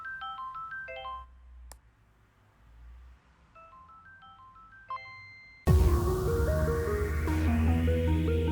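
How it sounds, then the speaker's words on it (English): A phone in the video game Goodbye World rings with a repeating melodic electronic ringtone of chirpy beeps, before loud game music suddenly swells in over it. "Is that a phone call?"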